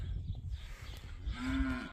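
Cows moo on a farm with outdoor noise around them, closing on one loud, drawn-out low moo near the end.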